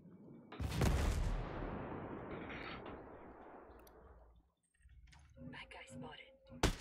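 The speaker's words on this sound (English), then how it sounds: "Hostile mortar incoming." A mortar round lands in a video game with a heavy booming blast that rumbles and fades over several seconds, followed by scattered lighter pops and clicks.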